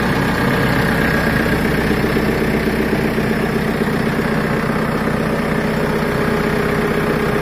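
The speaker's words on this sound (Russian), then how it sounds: "Двигатель работает как часики" The diesel engine of a JCB 3CX ECO backhoe loader idles steadily throughout, a continuous low rumble with a faint mechanical vibration and no voices.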